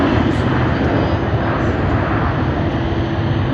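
At Sydney Airport, a private jet's engines roar loud and steady without a break, with a rushing broadband hiss over a low rumble.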